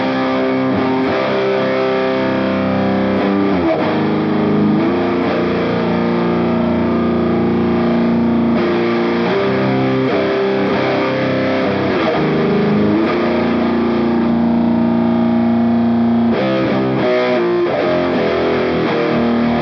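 An electric guitar played dry through heavy distortion with no delay, sustained overdriven notes and chords ringing continuously at close, loud level, with occasional shifts in pitch and brief changes in attack.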